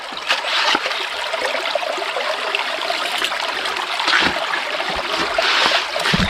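Gravel and water run through a sluice box at a placer gold site in Wicklow, giving a steady close trickle and splash with faint clatter throughout.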